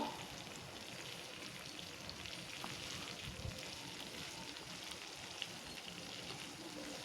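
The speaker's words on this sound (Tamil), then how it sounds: "ஒரு தக்காளியோ இல்லை 2 தக்காளியோ சேர்த்து அதுவும் கொஞ்சம் வதக்கி விடுங்க" Tomato sautéing in a pan for Tamil vatha kuzhambu, giving a soft, continuous low sizzle that stays faint and even throughout with no voices.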